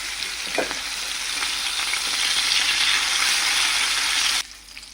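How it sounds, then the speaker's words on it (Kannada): Fish masala fries in plenty of oil in a pan, giving a dense, close sizzle that crackles steadily before suddenly dropping much quieter near the end. "ನೋಡಿ, ಎಷ್ಟು ಚೆನ್ನಾಗಿ ಫ್ರೈ ಆಗಿದೆ."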